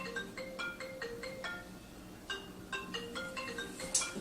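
A mobile phone ringtone plays a bright, repeating electronic melody of short tonal notes, fairly quiet and steady across the whole stretch, with a brief pause midway before the tune resumes.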